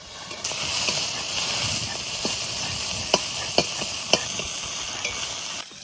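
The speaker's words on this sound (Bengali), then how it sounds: "চিংড়ি মাছ ভাজা হয়ে গেছে, এবার নামাই নেবো" Shrimp frying in oil in a wok, a steady close sizzle with a few sharp clicks of a spatula stirring and scraping, no talk.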